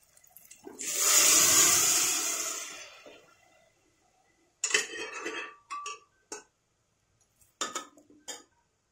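Cooked dal from a pressure cooker poured into a pan, a loud sloshing pour lasting about two seconds, followed by a few sharp clinks of a spoon against the pan.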